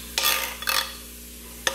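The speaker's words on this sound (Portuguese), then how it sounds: "Carne de porco fritinha na panela." Seasoned pork frying in a pan is stirred in a few quick scraping bursts, with a soft steady sizzle underneath and no talking.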